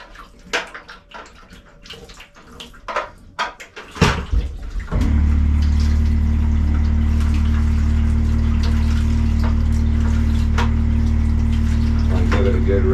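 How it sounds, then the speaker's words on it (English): Water is poured over a wet plate collodion photograph to halt development: scattered handling clatter and splashes at first, then a sudden strong, steady gush of running water that continues loud and unbroken to the end. "Now what I'm doing with the water is just stopping the development."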